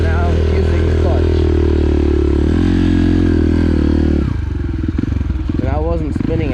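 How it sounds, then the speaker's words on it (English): An enduro motorcycle rides in second gear with the clutch in use, a loud steady engine drone close up that dips and revs near the end, with a rider speaking over it. "See, I'm in second right now using the clutch."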